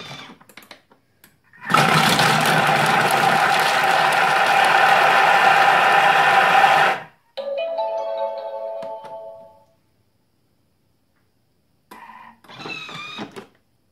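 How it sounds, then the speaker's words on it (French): A Thermomix chops onions at speed 5 for about five seconds, a loud steady whirring buzz with the lidded bowl and measuring cup in place, followed by a shorter whine as it stops and a few faint clinks. "je vais hacher pendant 5 secondes à vitesse 5"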